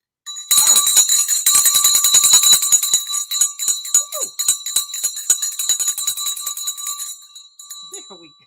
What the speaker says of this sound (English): While I'm ringing the bell